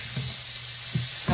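Tomatoes added to a hot frying pan in a home kitchen, giving a steady, close sizzle with a few brief stirring scrapes.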